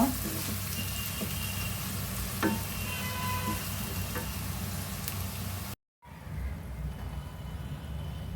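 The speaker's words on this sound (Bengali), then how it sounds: "সব গরম মশলা দিয়ে এখন পেঁয়াজটা আমি বাদামি করে নিব" Onions fry in hot oil with whole garam masala spices (peppercorns, cloves, cardamom) for chicken biryani, giving a dense, continuous sizzle with occasional stir clicks and a brief cut near the end, with no talking.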